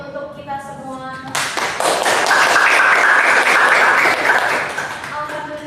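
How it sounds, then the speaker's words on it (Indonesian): Audience applause at a school debate event bursts in suddenly after a brief spoken moment, then a dense, loud crowd clapping holds steady for several seconds before easing off. "boleh dong berikan tepuk tangan yang meriah untuk kita semua"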